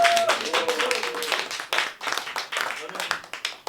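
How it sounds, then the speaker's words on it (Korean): Audience at a literary talk concert claps to welcome a children's book author, brisk bursts of applause close by, with a voice speaking amid the clapping. "임정진 작가님 오늘 힘찬 박수로"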